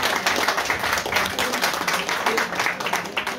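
A conference audience applauds for an author seated in the front row, steady mid-level clapping from many hands with faint voices underneath.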